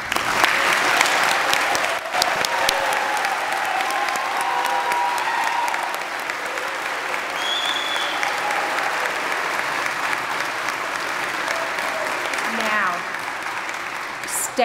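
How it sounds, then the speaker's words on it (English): Sustained audience applause honoring nursing graduates at a department celebration of excellence, dense and steady for the full span with a brief louder burst near the start and cheering voices mixed in before it thins toward the end. "give them a round of applause"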